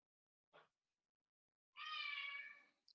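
A small cat meows into the microphone during an online discussion meeting: one brief soft call, then a longer, louder harmonic meow, heard alone with no talk.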